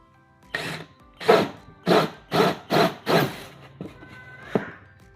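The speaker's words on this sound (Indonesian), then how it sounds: "selanjutnya teman-teman bisa melubangi dengan menggunakan bor ini." Six short, evenly spaced bursts of a drill grinding through soft styrofoam, each a second apart, followed by a couple of quieter scrapes.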